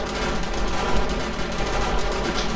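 Dense, continuous automatic turret gunfire in a video game, a steady loud rattle of rapid shots with no pauses and no voices.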